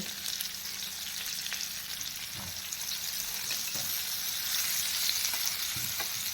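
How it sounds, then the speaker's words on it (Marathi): Rava-coated clams (kalwa) frying in hot oil produce a continuous dense sizzle, steady and close, with a few faint taps of a utensil underneath. "दोन्ही साईडने आपण व्यवस्थित फ्राय करून घेऊया"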